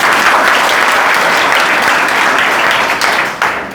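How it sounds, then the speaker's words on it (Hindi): Students in a classroom burst into loud, dense applause that holds steady for nearly four seconds, close and full, before tapering slightly at the end. "आपके लिए तालियां।"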